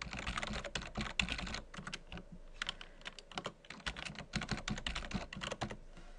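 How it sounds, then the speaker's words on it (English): Rapid, uneven clicking of a computer keyboard as a username and password are typed, in bursts of close keystrokes with short pauses, fairly quiet and with no talking. "I'll type in my username and password."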